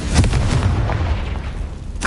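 A Confringo blasting curse in Hogwarts Legacy bursts into loud, rumbling booms with a dense low roar that holds for about two seconds, then ends in a brighter crack.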